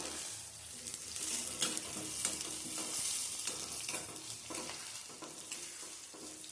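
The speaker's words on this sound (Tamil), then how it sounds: "இந்த எண்ணெயிலேயே நல்லா வதங்கி வரணும்" Small onions, big onions and garlic sauté gently in oil on a low flame for fenugreek curry, a soft continuous sizzle with occasional stirring scrapes, fairly quiet and steady with no talking.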